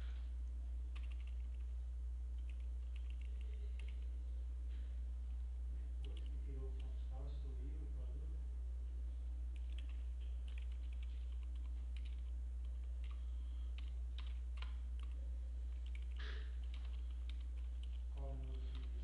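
Computer keyboard typing in scattered bursts of light clicks, fairly faint over a steady low hum, with a brief stretch of speech partway through.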